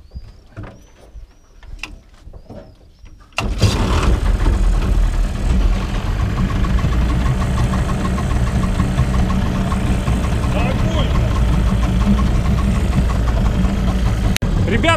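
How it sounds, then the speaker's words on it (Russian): A Neptune outboard motor on a river boat catches after a few quiet seconds of birdsong, then settles into a loud, steady close-up idle that runs to the end. "завелась чудо-техника с первой потяжки"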